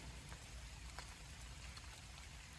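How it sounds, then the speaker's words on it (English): Rain falling steadily at Loch Lochy on a wet day, a soft continuous hiss with scattered drop taps, faint and constant throughout with no talk. "the rain picks up again. It has been so wet."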